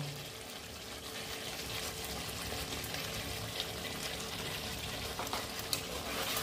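Cooked chicken sprinkled with biryani masala is stirred in a pan, giving a steady sizzle with light scraping and wet stirring sounds throughout, close and fairly even, with no talking.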